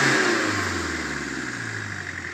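A car's turbo spools down after revving, the engine note sliding downward from a strong rev into a steady lower drone over a couple of seconds.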